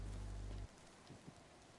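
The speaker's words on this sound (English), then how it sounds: "It sounds like it's raining." Rain falling in a video game, a steady soft hiss of drops spread evenly across the scene, faint and continuous after a brief low hum cuts out at the start.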